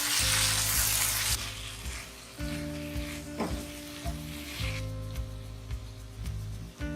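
A pan of aloo tindora sabzi, potato and ivy gourd with chopped tomato, is stirred, loud sizzling and frying with scraping spoon strokes against the pan, a harsh hiss at first that settles into steady crackle.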